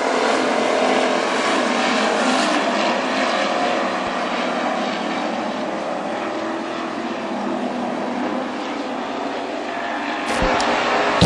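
WISSOTA street stock race cars roar around Granite City Speedway in a loud, continuous pack, engines blaring steadily without a break, with a brief dip and surge near the end.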